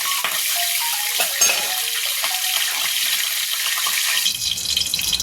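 Bakla (broad bean) vegetables frying in a kadhai being stirred, a loud continuous sizzle with scraping and clinking of the spoon against the pan, alone without talk.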